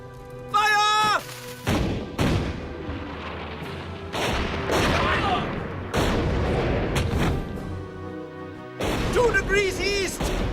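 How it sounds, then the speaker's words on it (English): Cannon fire in a dramatized battle, with several heavy booming blasts in irregular succession amid the clamor, loud and close, under shouted voices. "Hurry! Man your cannon!"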